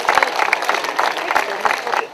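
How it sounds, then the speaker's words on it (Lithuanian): Audience at a town summer festival in Vėžaičiai claps in a steady, moderately loud round of applause, with a voice speaking over it. "Aplodismentai, gausesni aplodismentai"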